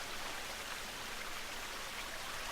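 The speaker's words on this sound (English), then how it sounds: "Sound of the running waterfall." A running waterfall in the video game The Forest, a steady, even rush of broadband water noise that stays constant and fairly soft throughout, with no voices.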